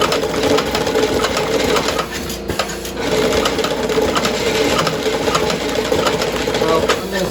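A CueJog drop-bottom paper jogging machine runs with a continuous rapid mechanical buzz and rattle, loud and close, with a brief dip partway through.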